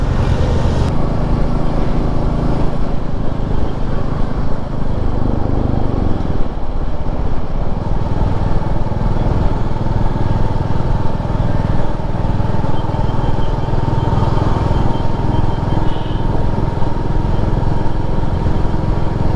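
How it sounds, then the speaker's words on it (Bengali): A new Royal Enfield Meteor 350 motorcycle engine thrums steadily throughout, loud and close, with wind and road noise over a constant low drone, crossing the Ganges. "নতুন বাইক মেটিওর 350 কিনেছি, তার ফার্স্ট রাইডে বেরিয়েছি আজকে আমরা"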